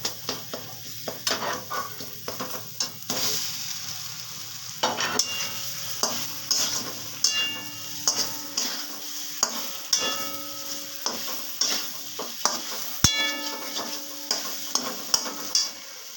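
Pointed gourds fry in spiced oil, sizzling throughout while a metal spatula scrapes and clinks against the pan in steady, repeated stirring strokes, close and clear.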